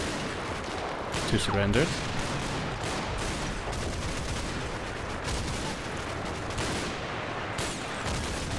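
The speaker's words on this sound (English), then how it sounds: "Suppressive fire blowing a massive hole in the wall." Gunfire and explosions from the WWII tactics game Combat Mission: Battle for Normandy, a dense continuous barrage of shots and booms with a brief louder burst early, while someone talks over it.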